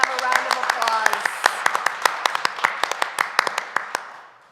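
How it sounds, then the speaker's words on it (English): Applause from a church congregation at a Sunday service: a dense patter of hand claps with sharp individual claps standing out, fading away toward the end, with a voice or tones audible early on. "Let's have a round of applause"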